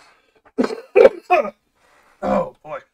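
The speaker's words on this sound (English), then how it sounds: "Gonna cough again." A man coughs several times in close, loud bursts, with a short pause before the last two, and he briefly speaks between them.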